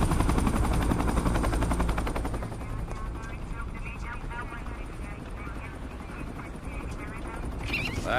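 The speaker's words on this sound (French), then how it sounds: "Avec ses bons dieux d'hélicoptère." Helicopter rotor thumping and engine roar, loud and continuous at close range, with voices faintly under the din in an action-comedy scene.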